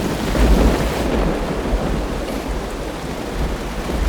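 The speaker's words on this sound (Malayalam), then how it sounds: "നല്ല മഴ." Heavy rain pours with rolling thunder, a dense, loud, steady downpour roar with deep rumbles swelling early, no voices over it.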